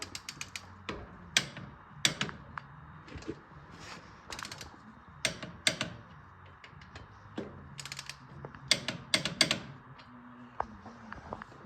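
A torque wrench clicks and ratchets in quiet, irregular bursts while tightening bolts on an Oliver OC-3 crawler tractor, heard up close with no talking.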